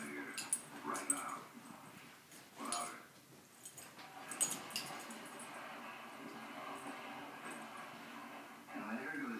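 Puppies whimper and yip in soft, overlapping bursts against a constant noisy background. The cries are fairly faint and carry on throughout.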